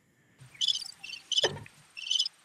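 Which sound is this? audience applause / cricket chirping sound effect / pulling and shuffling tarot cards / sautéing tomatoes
cricket chirping sound effect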